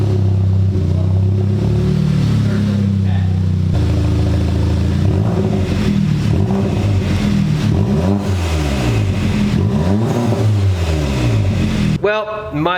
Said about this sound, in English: It's time to start this thing up and see what straight pipe sounds like before we put the exhaust on.